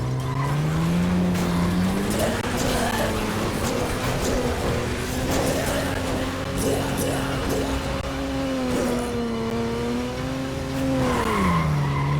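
The Royal Flush sports car in Dead Rising 2: Off the Record drives with a steady engine drone whose pitch rises and falls, under continuous tire squeal and skidding for about twelve seconds.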